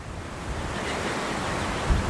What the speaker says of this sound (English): So here we are at the beach.